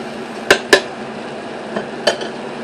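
A spoon knocks against a cooking pot while a roast is stirred, giving a few sharp metallic clinks, two close together early and another later, over a low background hiss.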